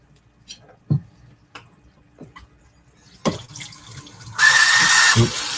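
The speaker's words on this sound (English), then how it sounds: "Splashing everywhere." Water from a sink tap rushes and splashes while a bowl is washed during home cooking of red curry with chicken, a steady loud gush near the end after a few quieter knocks and clatters.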